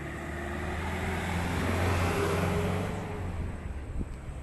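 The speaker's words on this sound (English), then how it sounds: "hope you can hear me over all the cars and the wind and everything" Steady roar of passing car traffic mixed with blustery wind noise on a walk in Dominica, continuous and fairly loud, with a vehicle swelling and fading past.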